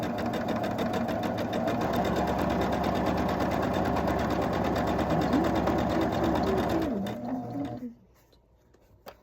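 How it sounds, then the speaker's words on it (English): A sewing machine runs steadily while chain piecing quilt block fabric, a close continuous whir that stops near the end; a voice hums or sings faintly over the motor. "So I'm going to line up on my inside gray line with my point, slide forward, and sew away."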